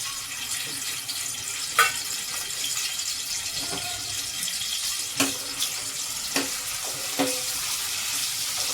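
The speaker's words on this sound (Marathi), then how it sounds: "5 चमचे तेल घातलेलं आहे, त्याच्यात मी थोडासा कांदा घालणार आहे।" Onion frying in about five spoonfuls of hot oil gives a steady close sizzle broken by a few sharp clinks and scrapes of a utensil against the pan.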